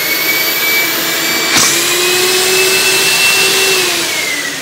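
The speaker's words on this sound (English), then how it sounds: "with the vacuum on, and here we go." A small homemade vacuum forming machine runs with its vacuum switched on, giving a loud, steady whining roar with a single click partway through. The pitch sags slightly near the end.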